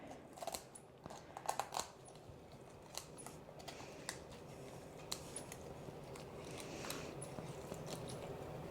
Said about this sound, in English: we're just gonna go ahead and break it down with a pair of kitchen shears